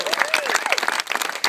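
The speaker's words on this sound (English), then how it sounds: "let's just all give a little round of applause for all the families that set this night up tonight" Wedding reception guests give a round of applause for the families, dense overlapping clapping that fills the room at close range, with a brief dip midway and a voice calling out over it.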